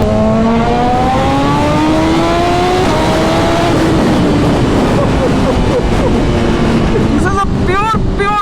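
A loud motorcycle engine revs and drones continuously, its pitch sliding up and down, with sharp exhaust backfire pops near the end; a voice talks over it.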